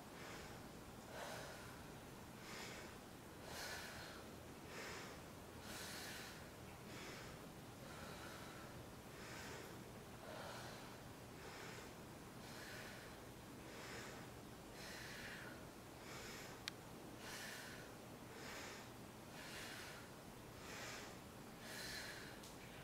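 Heavy rhythmic breathing during a yoga warrior two hold, steady inhales and exhales repeating about every couple of seconds, close and fairly quiet with no talk.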